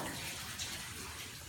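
Rinse water rushes steadily through an Axe SW3660 machine, a continuous hissing flow that stays close and even throughout.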